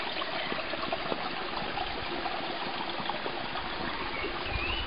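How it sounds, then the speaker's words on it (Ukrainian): Clear spring water streams steadily beside a rock monastery, a continuous close rushing and trickling with no break. "ви бачите, наскільки прозора кристалева джерельна вода"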